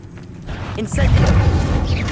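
Incendio, the fire spell in the Hogwarts Legacy video game, ignites with a sharp burst about a second in and swells into a loud, rumbling blaze that holds to the end, over faint background voice.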